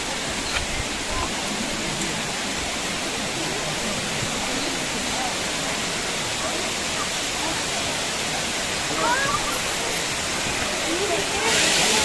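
Waterfall at Yercaud hidden falls, a steady broadband roar of crashing water that continues without a break, loud and close throughout.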